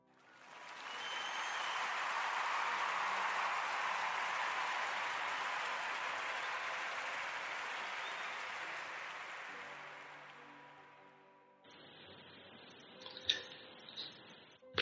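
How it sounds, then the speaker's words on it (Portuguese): A radio podcast studio audience applauds with sustained, dense clapping that swells and then fades away, followed by a quieter stretch with a few small clicks. "eu quero pedir a toda a gente uma salva de palmas"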